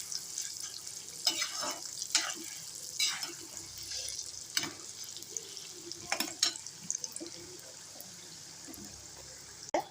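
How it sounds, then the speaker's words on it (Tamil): Chana dal fries in hot oil, giving a soft continuous sizzle and crackle broken by several sharp scrapes and taps of a spoon stirring the pan. "இது நல்லா பொரித்து எடுத்துருவோம். கருவை விட்டுறக்கூடாது, அதே சமயத்தில் கிறிஸ்பாகிடணும்."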